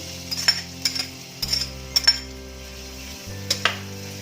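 Onion frying in hot oil in a pan, a soft steady sizzle broken up by repeated clinks and scrapes of a utensil stirring against the pan, with no talk.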